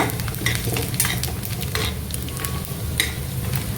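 Split cashew nuts fry with coconut in a pan for a split green gram payasam, producing a continuous close sizzle with intermittent scraping stirs and light utensil clinks, with no talking.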